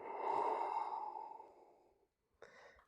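Slow, audible breathing during a yoga sequence: a long airy exhale fading out, a brief pause, then the start of a fresh breath, close and quiet with no talk.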